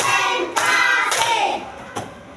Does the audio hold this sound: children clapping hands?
yes